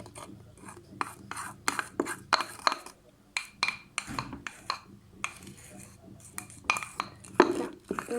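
Homemade slime made without glue is stirred, giving repeated scraping and clinking strokes of a utensil against a bowl, close and irregular, with brief pauses between bursts.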